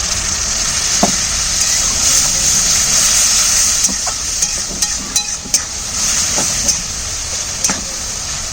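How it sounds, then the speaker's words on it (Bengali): Tilapia masala frying in a pan after a splash of water, a loud steady sizzle with scattered pops and stirring scrapes, close by with no talking. "একটু জল দিয়ে কষিয়ে নেব।"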